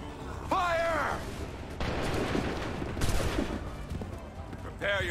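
Musket volley gunfire in Assassin's Creed 3, several sharp booming shots scattered over a few seconds amid battle noise, with voices shouting over the scene.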